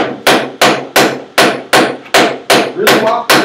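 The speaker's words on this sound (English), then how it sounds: "I don't know how much hammering you've done." Close, loud hammer blows land at a steady rhythm of about one strike every third of a second or so, nine sharp impacts each ringing briefly before the next, with no voices over them.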